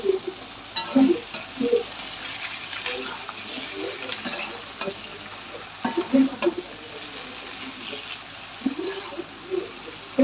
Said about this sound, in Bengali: চাউমিনটা এবারে দিয়ে দেবো।